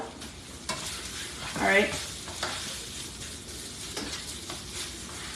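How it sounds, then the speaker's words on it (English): A spoon stirs a hamburger meat mixture with bacon and onion soup mix, making a soft, wet squelching scrape. It is fairly quiet against steady background hiss, and a voice speaks briefly. "you just want to like get it so that it's coating all of the meat mixture"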